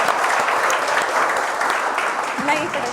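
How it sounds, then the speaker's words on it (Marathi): An audience applauds the leaders at a project competition, a dense burst of clapping from many hands, loud and steady throughout with a voice speaking over it. "आमच्या सगळ्या लीडर्ससाठी टाळ्या झाल्या पाहिजेत बरं का"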